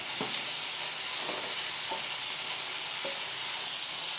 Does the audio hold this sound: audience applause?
no